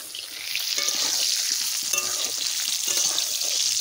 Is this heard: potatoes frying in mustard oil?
yes